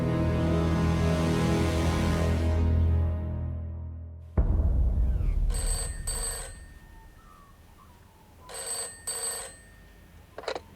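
An old-style telephone bell rings in two short bursts, a gap between them, each a bright metallic trill heard over a faint background after loud music cuts off.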